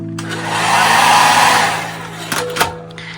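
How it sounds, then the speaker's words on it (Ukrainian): A hair dryer in a spa resort hotel room whirs up to a steady loud blowing roar, then fades out, followed by a couple of brief clicks. "Фен працює."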